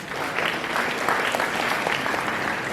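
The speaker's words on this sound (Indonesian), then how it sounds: "Sekali lagi tepuk tangan kepada beliau." Audience at a university orientation session on narcotics dangers applauds in a dense, steady wash of clapping, loud and sustained throughout with no talk over it.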